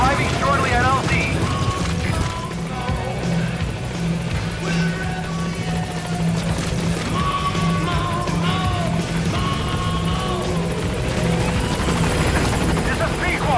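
Helicopter from the video game Metal Gear Solid V: The Phantom Pain, its steady rotor drone and whine filling the scene as it arrives at a landing zone, with game speech and music layered over it.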